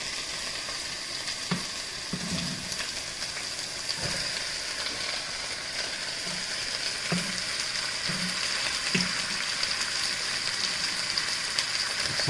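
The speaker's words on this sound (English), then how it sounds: "Fried with the salted cod and the onions and the tomatoes." Leeks frying in a pan with salted cod, onions and tomatoes give a steady, close sizzle, with a few soft stirring knocks scattered through it. No one speaks.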